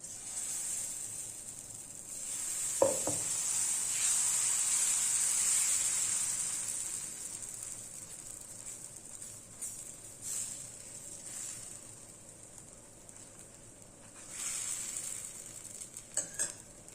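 Kambu millet dosa batter hitting a hot pan sets off a steady, bright sizzle that swells and eases over several seconds. A single clack sounds early on, and later bursts of frying hiss return with no talk.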